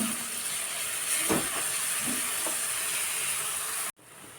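Onion sizzles in a pan while it browns for a Maharashtrian bitter gourd curry. A steady, fairly loud frying hiss carries a few soft stirring scrapes before it cuts off near the end.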